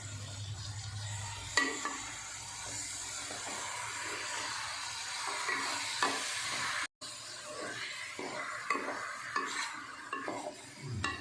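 Chicken frying in a pan with salt and dried fenugreek leaves, stirred steadily, with a continuous sizzle and repeated scraping and clinking of a spoon against the pan.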